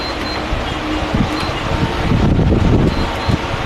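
An air cooler fan blows cold air, a loud continuous whooshing rush that holds steady, with faint rumbling underneath and no talking.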